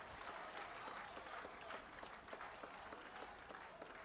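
A Davis Cup tennis crowd, India versus Morocco, applauds a rally with steady, even clapping that sounds somewhat distant and subdued throughout.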